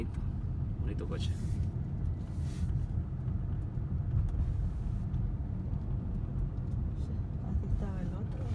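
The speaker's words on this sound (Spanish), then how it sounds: "2015, bonito, bonito coche." A 2015 Rolls Royce Phantom drives along with a steady low engine and road rumble heard from inside the car, and voices talk briefly over it.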